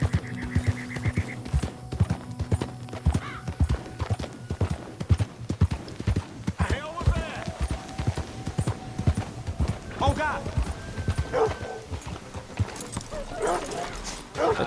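Steady clip-clop of horse hooves plodding along in Red Dead Redemption 2, with an occasional whinny, under ongoing talk and game ambience.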